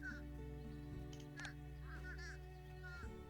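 Several short, nasal crow-like honks repeat faintly over a steady electronic hum and background music: a fish crow call from the board game Wingspan.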